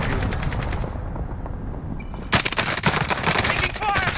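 Call of Duty: Warzone gunfire: a rapid, loud string of automatic shots, then a short lull, then more bursts that crackle hard and close.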